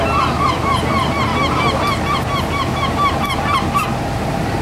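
Crows call repeatedly in a chorus of short, harsh cries, loud and fairly near, over a steady wash of coastal surf and wind, with no voices.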